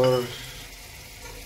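Ground spices hit hot oil in a pan for a besan and soya sabzi, giving a burst of sizzling that fades quickly into a softer, steady fry.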